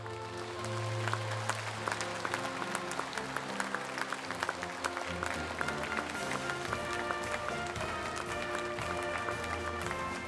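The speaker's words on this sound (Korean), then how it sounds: "큰 박수로 응원해 주시기 바랍니다" Sustained, moderately quiet audience applause at an evening gathering of the 2018 Torch Korean Diaspora World Mission Conference, steady clapping over music and tones.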